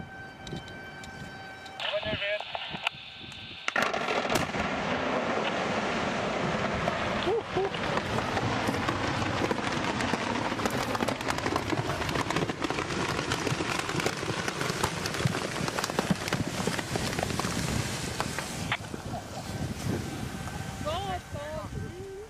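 Demolition charges blast a single rock beside a river, a sudden loud broadband boom followed by a long, steady roar of falling debris and rushing noise. Voices can be heard faintly beneath it.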